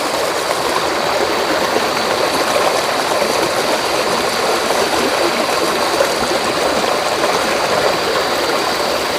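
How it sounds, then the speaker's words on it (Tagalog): Strong, steady rush of flowing spring water, close and continuous, with a constant bright hiss and no voices. "Lakas kasi ng tubig. Maagas. Lakas ng tagas niya."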